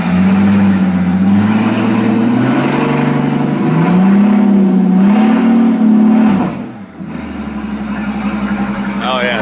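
Straight-piped Mercedes S65 AMG with a 6.0L V12 revving loudly and up close, its deep growl rising and falling in repeated pulls, dropping briefly near the end before building again.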